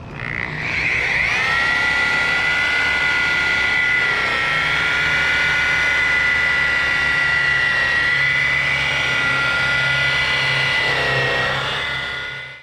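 An electric paint sprayer whines loudly and steadily at a raised speed, a high sustained motor tone with slight pitch wavering that starts up, holds for several seconds and tails off at the end.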